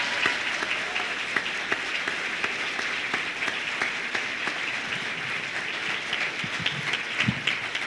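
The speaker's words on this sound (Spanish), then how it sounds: "Merecida la ovación." A lecture audience applauds a doctor after his talk on public policy and investment, with steady, dense clapping sustained for about eight seconds at an even level.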